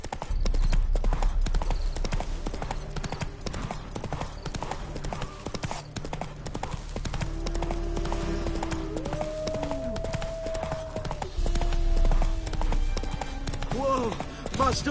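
Hooves of Roach, a horse in The Witcher 3, clip-clop in a steady trotting rhythm close by, with a brief whinny and other game sounds mixed in.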